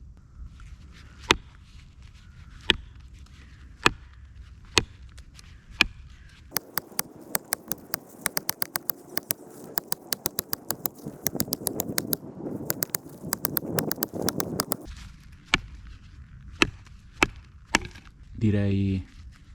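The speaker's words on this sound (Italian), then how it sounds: "Proviamo a fare subito un po' di chopping per vedere come riesce a penetrare dentro il legno" Sharp knocks of a Brisa Nessmuk 125 knife blade chopping into wood, spaced at first, then a fast dense flurry of chops, then slower single strikes again, close by.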